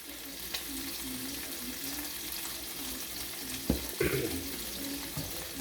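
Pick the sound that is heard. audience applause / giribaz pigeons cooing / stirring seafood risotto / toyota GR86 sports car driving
stirring seafood risotto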